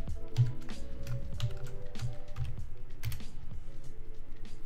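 Keystrokes on a computer keyboard as a password is entered during switch configuration, a steady run of quick clicky taps at close range over a low background hum, with no voices.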